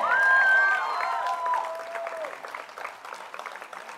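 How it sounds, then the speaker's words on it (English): An audience at an IB graduation ceremony applauds the year's graduates: a dense, sustained round of clapping that swells early and then gradually thins, with a bright whistle-like tone rising and falling over it near the start. "give them a huge round of applause"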